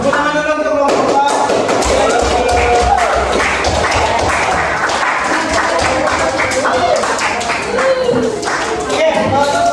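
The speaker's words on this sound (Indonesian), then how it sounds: "tepuk tangan dulu untuk kelompok A" Classroom audience clapping for group A's class presentation at a Padang state university, dense sustained applause with some cheering and chatter underneath, steady and loud throughout.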